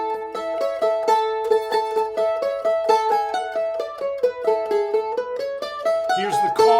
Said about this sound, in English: It's a Canadian fiddle tune.